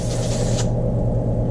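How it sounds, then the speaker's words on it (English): A short hiss of aerosol carburetor cleaner sprayed onto the float of a Honda TRX 200SX ATV carburetor, one burst lasting about half a second before cutting off over a steady low engine-like drone. "Just give her another spray off real quick"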